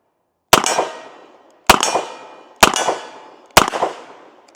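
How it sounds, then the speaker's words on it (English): Four loud, sharp revolver shots from a Ruger GP100 with a 6-inch barrel firing .38 Special rounds, evenly spaced about a second apart, each with a short ringing decay outdoors. "Let's go ahead and take our final shots with the GP100. There's that 38 Special."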